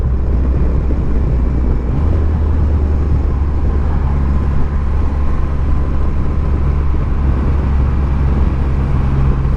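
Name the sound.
Triumph Rocket 3 GT motorcycle engine revving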